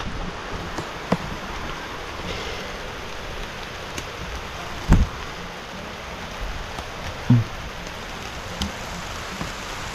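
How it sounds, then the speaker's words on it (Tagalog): Rain falls steadily over a bitter gourd field during a harvest, a broad even hiss with a few louder close drops or knocks standing out, no voices. "Naabot kami ng ulan"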